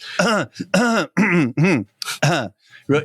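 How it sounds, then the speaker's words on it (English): A person coughs hard several times in quick bursts, close up, with short pauses between the rough, throaty hacks. "I was having a coughing fit."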